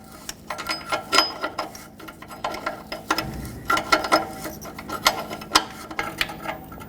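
A ratchet unthreads an upstream oxygen sensor on a 2011-2016 Ford F-350 with the 6.2L V8, a close series of quick mechanical clicks in bursts with short pauses, loud and without talk.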